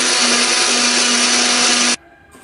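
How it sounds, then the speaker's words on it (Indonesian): A kitchen blender whirs loudly and steadily through seasoned batter for about two seconds, then cuts off abruptly, leaving near silence. "Setelah itu kita akan blender lagi."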